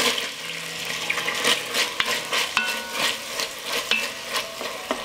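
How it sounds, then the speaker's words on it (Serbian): Steady crackling sizzle of onion and garlic frying in hot fat, with scattered sharper pops and spatters throughout, fairly close and continuous. "Na ovoj masnoći propržit ću crni i beli luk."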